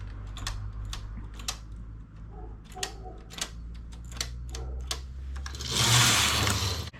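A knitting machine runs two rows of yarn, its carriage giving sharp clicking and clattering strokes in an irregular series, closing with a louder sweeping rush near the end.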